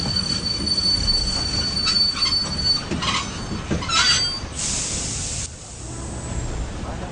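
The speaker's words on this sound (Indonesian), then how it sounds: "naik kereta ekspres Jakarta-Jogja saat kereta tiba-tiba berhenti" A Jakarta-Jogja express train brakes to a sudden stop with a loud, drawn-out metallic squeal of wheels on rails, followed by a hiss of air brakes as it comes to a halt.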